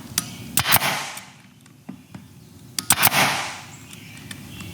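A nail gun fires small half-inch brad nails into an RV cabinet, two or three sharp close pops and thumps in quick pairs, separated by a quiet pause.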